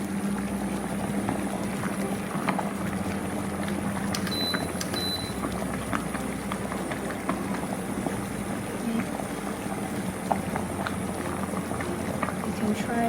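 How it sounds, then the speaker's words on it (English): Water with glutinous rice balls at a steady rolling boil, a continuous bubbling hiss with small pops, close and even throughout. "So the water starts boiling"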